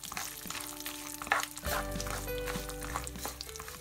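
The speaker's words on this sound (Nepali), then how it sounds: "अब यसमा सुकमेल पनि राखेर यसलाई राम्रोसँग फ्राई गर्नुपर्छ" Nuts, raisins, pistachios and cardamom frying in a pan for Nepali sewai kheer, a light crackling sizzle with stirring scrapes and a clatter, joined partway by a steady low hum.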